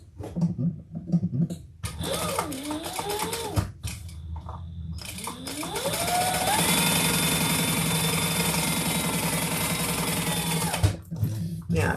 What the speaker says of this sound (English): then we are going to stitch across the bottom here, basting that pocket down.